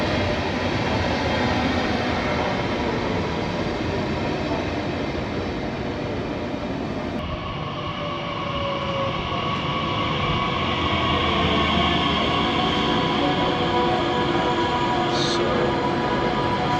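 A train at a German railway station, with the steady rumble and hiss of rolling railcars and platform ambience, a sharp shift partway through as the sound changes, and a brief higher tone near the end.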